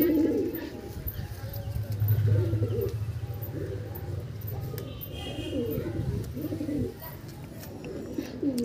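Andhra pigeons keep up a string of low, throaty, rolling coos at close range, each burst following closely on the last over a soft background hum.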